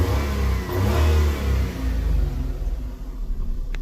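A 2011 Maruti Alto K10 car engine revs up loudly near by, then the revs drop and settle into a rougher, quieter run toward the end.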